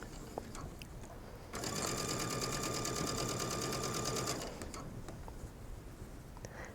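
A sewing machine runs steadily for about three seconds, stitching a mesh sleeve seam, a fast even mechanical chatter that starts and stops abruptly against a quiet room.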